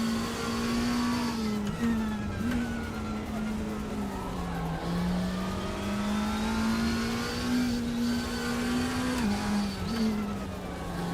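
A racing car engine in a RaceRoom video game drones steadily at high revs, the pitch rising and dipping with gear changes, loud and continuous without a break.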